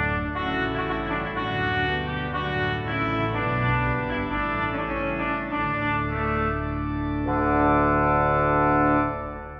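A pipe organ plenum on the first manual, combining 8, 4 and 2 foot stops with a mixture, plays a full, bright chordal passage for nearly ten seconds, loud and continuous with a swelling close.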